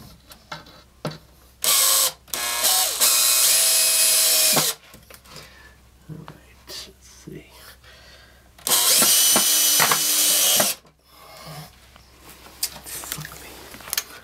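Cordless drill driving screws into plywood of a wooden concrete form in two loud sustained bursts, separated by quieter bumps, clatter and handling noise.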